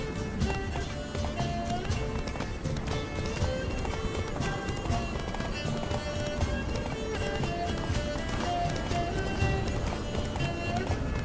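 A horse gallops while ridden in the video game The Witcher 3: Blood and Wine, with rapid, steady hoofbeats carrying through the whole stretch over a layer of game music.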